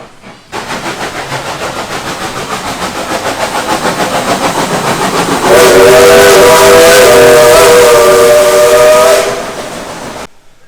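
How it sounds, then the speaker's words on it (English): A steam train whistle at Dollywood in Pigeon Forge blows long and loud, sustained tonal blasts over a constant hissing rumble, then fading out. "And here comes the train."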